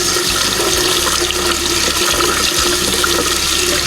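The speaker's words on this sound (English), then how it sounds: "I'm just going to take and rinse all of these brushes" Makeup brushes rinsed under water, a loud, steady, close rush of running water that continues without a break.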